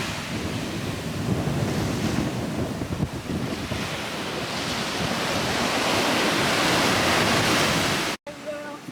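Steady roar of hot wind buffeting the microphone over rushing surf on a tropical beach, loud and continuous, cutting off abruptly near the end.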